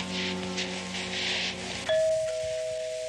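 A single two-tone doorbell chime rings out clearly, its second note sustaining and fading, following a brief stretch of quiet room hum.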